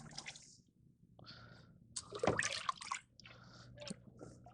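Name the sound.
cold brine poured into the brine container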